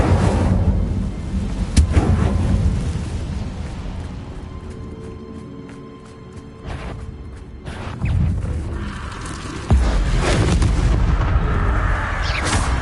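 Confringo blasting-spell explosions in Hogwarts Legacy, heavy booming blasts with crackling debris, a sharp hit near two seconds and renewed loud bursts around eight and ten seconds over a continuous rumbling game background.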